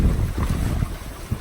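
Strong gusting wind roars over the microphone aboard the sailboat SeaSprite under sail, a loud continuous low rumble with buffeting pulses and faint water wash beneath.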